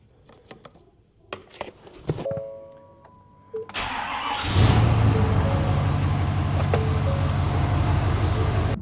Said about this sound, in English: fire this thing up